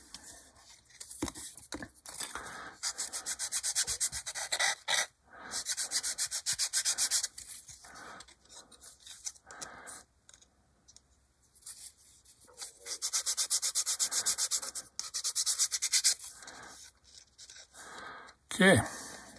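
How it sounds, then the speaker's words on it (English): Plastic part from a 1/48 scale B-25J model kit being sanded, in bursts of fast, bright, gritty back-and-forth strokes separated by pauses, close up, with a sharp knock near the end. "Like you can see, this one's not sanded."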